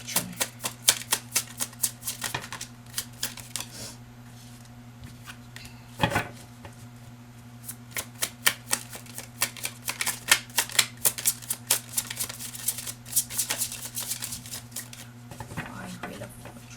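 Tarot cards are shuffled and handled for a card draw in a Pisces love reading, giving a long run of quick, dry papery riffles and flicks close by, with a steady low hum underneath and no talk during the shuffling.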